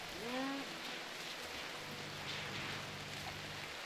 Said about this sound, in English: I wish it wasn't raining.